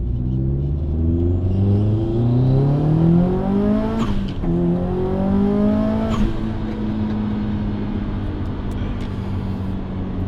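Subaru Impreza Blobeye turbo engine, tuned to 337 horsepower at 1 bar of boost, pulls hard and loud through rising gears, with steady climbing revs and two brief shift breaks.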